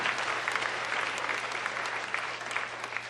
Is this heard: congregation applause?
yes